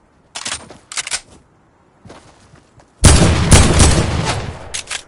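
Gunfire in a shooter video game: short bursts of shots early on, then a loud, sustained stretch of rapid fire. No talk is heard over it.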